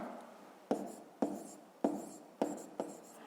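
Pen writing numbers on paper during a fifth-grade maths exercise, five quick scratchy strokes in an even rhythm, close and quiet with no voices.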